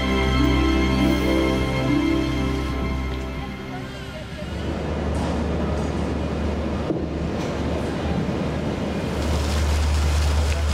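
A boat cruises on Lake Geneva toward the Château de Chillon, with a steady engine drone, rushing water and wind noise on the microphone. Music plays over it throughout.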